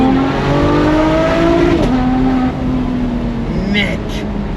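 Ferrari 599 GTO engine revving up close, a loud rising whine that drops as it shifts, then climbs again while people talk over it.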